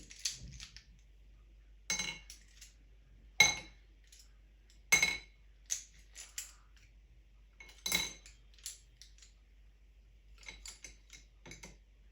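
Makeup brushes dropped one after another into a bowl for washing, giving a dozen or so sharp, close clinks and taps at irregular intervals against a quiet background, with no talking.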